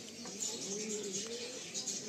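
A Kaldom pigeon in a pigeon loft gives a faint, soft, low coo of about two seconds, alone and fairly quiet.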